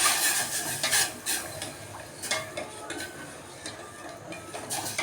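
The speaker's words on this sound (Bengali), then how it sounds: "চিনিটা গুলে নিচ্ছি।" A spoon stirs sugar in a pot, making close scraping and clinking strokes in an uneven rhythm, with no voices over it.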